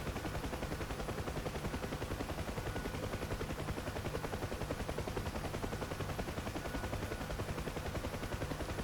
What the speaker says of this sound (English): I think most of it is small arms fire.